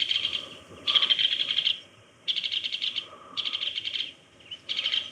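An adult bird in a pine tree repeats harsh, rapid scolding alarm calls in bursts of about a second, separated by short pauses, fairly close and loud against a quiet background.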